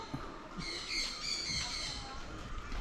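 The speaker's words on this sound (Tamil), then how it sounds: "ஸோ இங்கே பார்த்தீங்கன்னா மயில் இருக்குது" A peacock at a bird park in Kandy lets out a few loud, harsh squawks from nearby, set against outdoor background noise.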